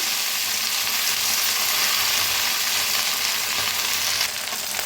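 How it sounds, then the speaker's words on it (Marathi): Fenugreek leaves tossed into a pan of roasted garlic, producing a loud, dense, close-up sizzle that holds steady for a few seconds with light stirring underneath. "आता लसूण भाजलेला आहे त्याच्यातच टाकूया मेथी"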